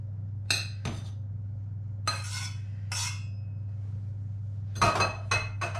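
Pasta for mac and cheese being mixed in a pot, scattered metallic clinks and scrapes of a utensil against the cookware, a few sharp knocks spaced apart over a low steady hum.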